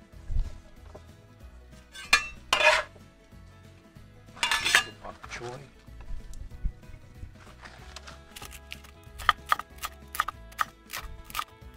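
Chopped vegetables tumble into a cooking pot for chicken and dumplings, giving a few scattered clinks and scrapes of metal and utensils, then a quick rattling series of light taps near the end, fairly faint and close.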